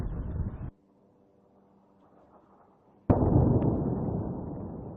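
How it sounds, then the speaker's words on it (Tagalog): Missile-strike explosions in Lebanon from news footage: a loud rumbling blast that cuts off, a quiet stretch, then a second sharp, heavy boom with a long roaring tail. "Dumadagundong din ang mga pagsabog sa Lebanon"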